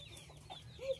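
Chickens on a farm cluck briefly with a few soft, near calls over a low background rumble.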